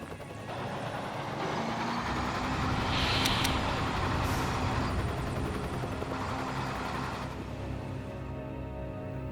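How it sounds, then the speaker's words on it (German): A helicopter in the war strategy game War Front: Turning Point produces a steady, loud rotor drone with rumbling noise throughout and brief sharp effects midway, fading slightly at the end. "Ein Helikopter haben wir schon. Der zweite kommt gleich."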